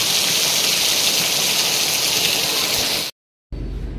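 Heavy rain pours down in a loud, dense, unbroken hiss. It cuts out abruptly for a moment near the end, then resumes.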